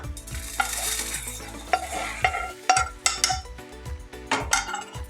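A utensil scrapes and clinks against a metal pan while roasted coconut and lentils are moved from the pan onto a plate, with close repeated knocks and faint sizzling throughout.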